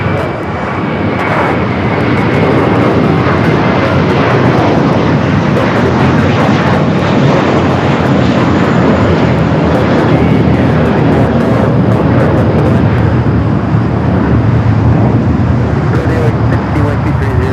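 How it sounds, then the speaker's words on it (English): Steady, loud jet roar of an American Airlines Airbus A321 departing LAX, a continuous broad rumble with whining engine tones that holds throughout, with a voice faintly underneath. "That was American Airlines heading to Dallas, Fort Worth, Texas, flight 1230 in that A321"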